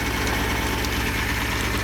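A Ferrari Dino 246 GT engine idles after a carburetor adjustment, giving a steady, dense close-up rumble with an even low pulse and no talking.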